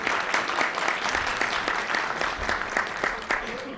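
Applause from a press club luncheon audience, a steady moderate patter of many hands clapping in a large room, fairly distant and even throughout.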